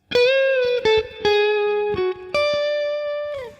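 An electric guitar plays a short lick from a song: a handful of sustained, clear notes with bends and releases, each note ringing out alone at a moderate volume.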